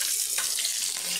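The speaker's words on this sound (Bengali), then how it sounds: "এবার আমি আলুগুলো খুব ভালো করে ভেজে নেবো।" Cut potatoes fry in hot salted oil for a ridge gourd and poppy seed dish, giving a brief, steady, close hiss of sizzling.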